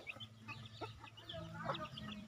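Soft clucking from a hen mixes with faint, high peeping of chicks, heard at a distance over a low steady hum.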